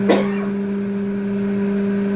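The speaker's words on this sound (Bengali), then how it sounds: "আমাদের লঙ্কার ঝাঁঝে আমাদের কাশি আসছে বন্ধুরা" A single short, sharp cough, caused by chilli fumes from boiled green chillies, carrots, capsicum and onion, bursts out near the start in a home kitchen, then a steady hum from the running kitchen chimney carries on alone.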